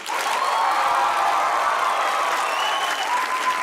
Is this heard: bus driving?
no